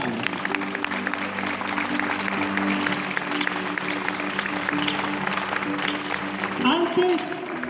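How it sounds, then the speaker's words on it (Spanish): Church congregation applauding during a Sunday morning service, steady dense clapping that carries throughout, with speech and a musical tone emerging near the end. "Den un fuerte aplauso a Dios por esa palabra."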